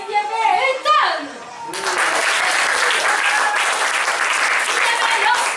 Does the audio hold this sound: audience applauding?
yes